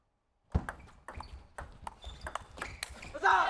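Sharp, bright pings of a table tennis ball at a men's team Olympic trials match, with a backhand opening among quick hits, sound under a commentator's steady talk as crowd noise rises near the end.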